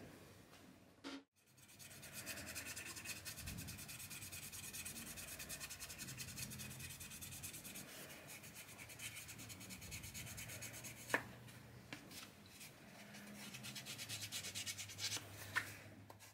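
Hand sanding along the edge of a knife sheath made of leather layered over Kydex, a steady close abrasive rubbing that continues without pause, broken by a few brief sharp knocks.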